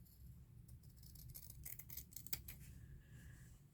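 Scissors snip through cardstock and fabric scraps during birthday card making, a series of quiet, close crisp cuts and rustles clustered mid-clip over a low background hum.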